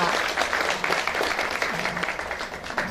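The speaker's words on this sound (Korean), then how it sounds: "여러분 큰 박수로 좀 맞이해 주세요." Sustained clapping from a crowd at a hotel breakfast lecture, a continuous, fairly loud patter of many hands with slight swells, and faint speech mixed beneath it.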